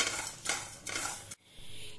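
Whole pickle spices dry-roast over a low flame as a spoon scrapes and stirs them around a metal pan in a few quiet, close rasping strokes, then a short pause.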